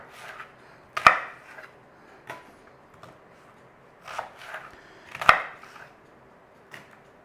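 Knife chopping onions on a cutting board, with a few sharp, separate knocks spread across the stretch between quieter gaps, close and fairly crisp, with no talking.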